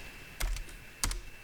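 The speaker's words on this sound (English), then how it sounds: "Enter on your keyboard" Enter key pressed on a computer keyboard, two distinct close clacks about half a second apart over a soft room hiss, with no talking.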